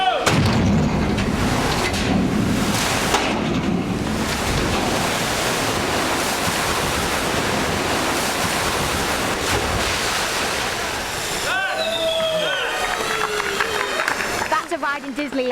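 A roaring wall of water surges on a theme-park flume ride, loud and continuous like crashing surf, with a splashing burst near the end and excited voices talking and shouting over it.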